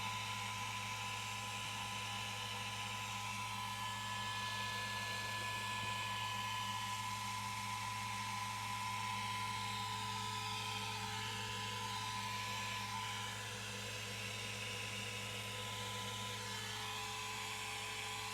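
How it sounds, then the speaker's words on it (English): Elegoo Centauri Carbon 3D printer running, a steady whirring fan noise with a faint high whine, continuous and moderately close, no voices. "So it's basically, I think, just noise, fan noise, maybe a little bit of some other noise, but mainly fan noise"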